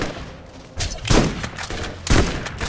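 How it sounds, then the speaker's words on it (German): Two rockets launched from a rocket launcher in Borderlands, heard as two loud, broad blasts about a second apart amid noisy combat ambience. "Schieße ich damit 2 Raketen auf einmal."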